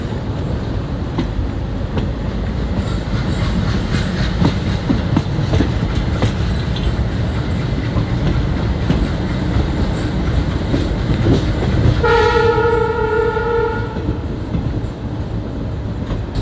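A Mangaluru–Kabakaputtur passenger train runs steadily with a continuous loud rumble of wheels on rails, then a horn sounds in a sustained tonal blast for about two seconds near the end.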